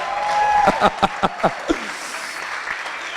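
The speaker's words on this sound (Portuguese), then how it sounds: "Uma salva de palmas para ele." A short burst of clapping from a small group, a handful of sharp claps that quickly die away into quiet room noise.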